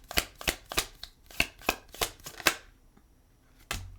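Tarot cards being shuffled for a spiritual reading, a run of crisp riffling bursts in fairly regular rhythm close by, then a pause and one last snap of the deck.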